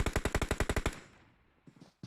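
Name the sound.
gunshots in the video game PUBG Mobile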